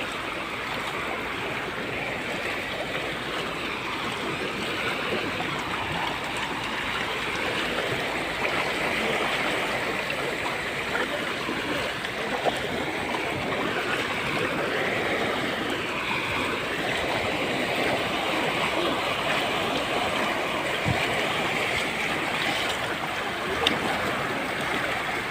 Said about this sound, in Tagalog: Malaki na talaga itong baha to.